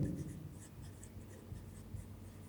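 A pen scratches steadily across paper, close and quiet, with a soft continuous scraping texture over faint room noise.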